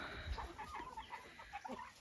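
Chicks clucking softly inside a pen they share with turkeys, a few short, faint calls scattered over a low background with no talking.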